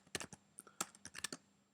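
Keyboard typing in two short bursts of quick, close clicks on a computer keyboard while naming a file in a Flash Professional mobile AIR app workflow, with no voices.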